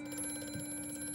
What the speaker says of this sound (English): Hey, the phone's ringing.